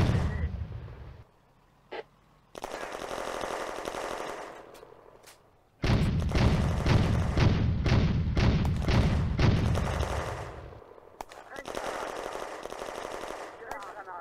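Tanks and armoured vehicles lay down suppressing fire in the game Firefight, with long bursts of rapid machine-gun fire and heavy booms, loud and close, separated by short lulls and shouted voices.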